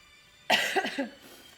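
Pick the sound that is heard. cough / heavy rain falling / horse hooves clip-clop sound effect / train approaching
cough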